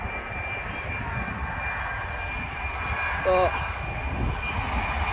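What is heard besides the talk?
TUI airplane engine at East Midlands Airport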